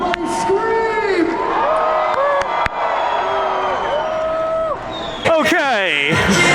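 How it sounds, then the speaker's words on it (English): Loud convention crowd screaming and cheering nonstop around a DJ, with whoops and shouts layered over a dense roar and a brief dip before swelling again. "Everybody scream!"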